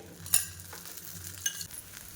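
Oil sizzling gently around a jowar dosa in a pan, a quiet close frying hiss with two faint clinks from a utensil against the pan.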